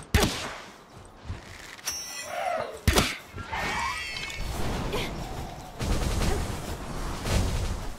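Sharp synthetic shots crack out in a few separate bursts in the game Palworld over busy game noise and clanks, punchy and close.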